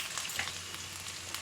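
Small raw potatoes fry in a pan with turmeric, giving a steady, close sizzle with light crackles that runs without a break.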